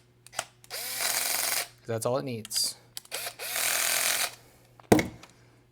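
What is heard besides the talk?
small drill driving number 6 screws at lowest torque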